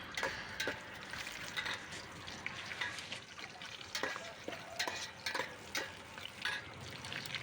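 Cashews, bay leaves, green chillies and pulao spices fry in a pan, a soft continuous sizzle broken by frequent scraping stirs and light clicks, with no voices.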